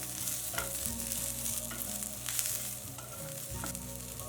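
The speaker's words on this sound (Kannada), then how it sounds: "ಸ್ವಲ್ಪ ಕೊತ್ತಂಬರಿ ಸೊಪ್ಪು ಈರುಳ್ಳಿ ಸ್ವಲ್ಪ ಫ್ರೈ ಆಗಲಿ" Onion and coriander leaves fry softly in a pan for a tomato chutney, with a low, faint sizzle, a few light stirring taps, and a steady low hum in the background.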